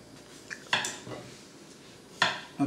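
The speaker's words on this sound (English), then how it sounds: "Okay, we cut it in slices." A knife cuts zucchini into slices on a cutting board, giving a few separate chopping knocks with short gaps between them, close and clear, with no one talking.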